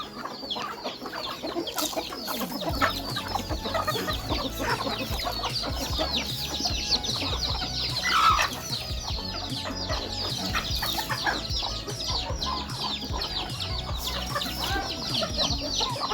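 Many native desi hens clucking at once, a busy, continuous flock chatter close by, with occasional louder squawks.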